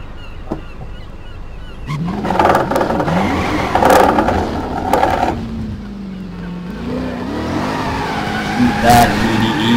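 Car burnouts in the video game Driver San Francisco: engine revs climb and fall in repeated surges with tire squeal, loud and close, alone without talk.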